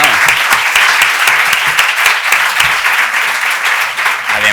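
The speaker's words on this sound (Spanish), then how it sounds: "Así que, un aplauso." An audience at a literary event in Málaga bursts into loud, sustained applause, a dense crowd of clapping hands with some individual claps standing out, steady throughout and unbroken by speech.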